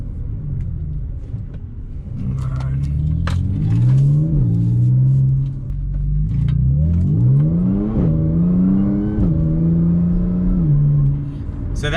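A B8 Audi S4 with a tuned DSG gearbox accelerates at about half throttle, its engine note rising loud and close, dropping sharply at each gear shift near 4,000 rpm, then climbing again through several gears.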